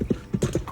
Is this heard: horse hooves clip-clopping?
yes